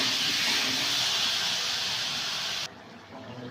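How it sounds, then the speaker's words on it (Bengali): Water poured into a hot pan of Bengali egg and potato curry in a village kitchen, a loud steady sizzling hiss that runs unbroken for nearly three seconds, then cuts off abruptly into a quieter low simmer. "দিয়ে আর একটু কষে জল দিয়ে দেবো"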